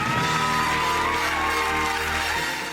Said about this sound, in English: I could just hear the screams from the audience in the studio.